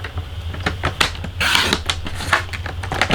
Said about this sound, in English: We're going to cut it to 4 inches